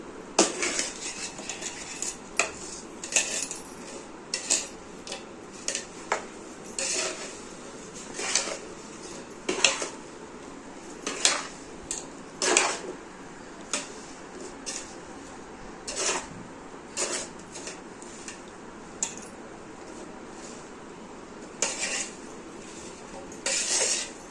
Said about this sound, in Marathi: आता छान असं लोणचं छान व्यवस्थित मिक्स करून घ्यायचं